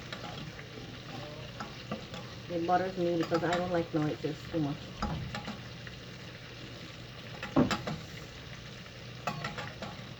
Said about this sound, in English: So, bake is frying, fish is frying.